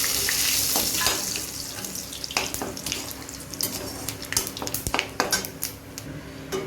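Cumin seeds, bay leaf and dried chilli fry in hot oil with a steady, close sizzle. Utensil clinks and scrapes against the pan grow busier toward the end.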